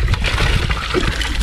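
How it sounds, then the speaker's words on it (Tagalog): Water runs out through holes in a large bucket, a constant splashing trickle with no break. "Yung balde namin malaki. May butas mga kaisan. Kaya uubos yung tubig."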